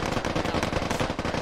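A rapid automatic burst of gunfire in the military shooter Squad cracks out in quick, evenly spaced shots, loud and close for over a second with no talking.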